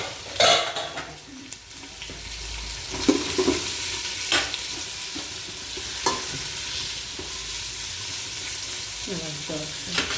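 Chopped onions and curry leaves frying in a pan, a continuous close sizzle broken by a few sharp stirring scrapes and clatters of a spoon against the pan.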